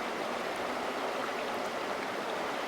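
A creek crossing on a waterfall walking trail between New South Wales and Queensland, its water flowing in a continuous close, even hiss and burble with no voices over it.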